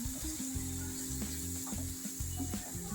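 Eggplant frying in a pan with coriander powder, turmeric and cumin powder, giving a steady close sizzle and hiss over tonal background music.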